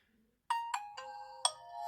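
A short, bright Nokia phone startup melody of four chiming notes, played on a Nokia 6.2, rises out of silence, clean and fairly quiet.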